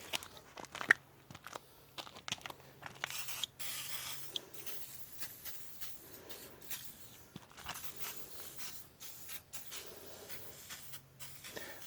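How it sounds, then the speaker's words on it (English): Short hissing bursts of WD-40 sprayed from a can onto a car headlight, mixed with faint rustles and handling noise, fairly quiet and close. "And then we're going to spray it with WD-40."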